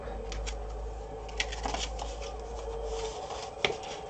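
Strat-O-Matic baseball cards are flipped and shuffled by hand during a replayed 1970 game, producing soft papery riffling with a few sharper snaps, close and fairly quiet over a low background hum.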